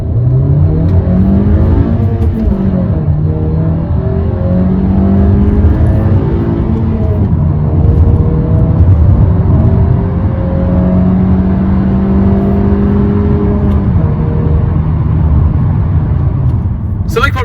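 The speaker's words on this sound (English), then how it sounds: "Let's see what it's like going onto the motorway from 0 to 120 kilometers an hour." A 2018 Honda HR-V 1.5 VTEC engine revs and accelerates through the gears from 0 to 120 km/h onto a motorway, rising pitch climbing repeatedly, loud and close from inside the car, with a voice talking over it.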